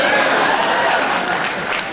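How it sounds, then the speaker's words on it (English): A short burst of audience clapping at a stand-up comedy show in a theatre, dense and fairly loud, fading slightly by the end with some chuckling mixed in. "Let's go and get a round of applause for my dad too,"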